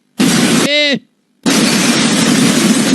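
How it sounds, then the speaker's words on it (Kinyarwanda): A bomb explodes in an action film, with two loud, roaring blasts of noise separated by a brief tonal cry and a moment of silence. "igisasu cyaraturitse"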